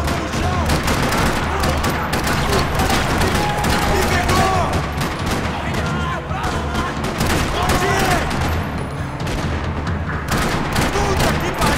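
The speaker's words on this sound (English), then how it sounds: "Rattling with gunfire." Dense, continuous gunfire from the game Max Payne 3: rapid rattling bursts and overlapping shots pack every second, loud and close, with faint voices underneath.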